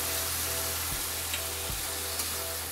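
Tomatoes with salt frying and being stirred in a pan for egg keema, a steady close sizzle with two soft thuds of the spoon, no talking.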